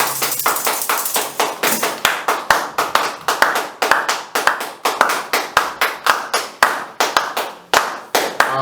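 A church congregation applauds on a Sunday as an apostle approaches, a loud, close burst of steady rhythmic clapping that pulses in even waves throughout, with no talk over it.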